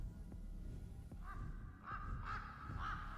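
A bird caws in the video game Rise of Insanity, four harsh calls spaced about half a second apart, moderately near over a low rumbling background.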